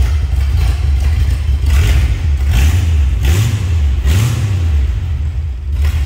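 A 1929 Ford Model A Roadster, fitted with three carburetors, runs loud and close after a cold start, its engine rising and falling through several blips of revving over a steady clattering idle.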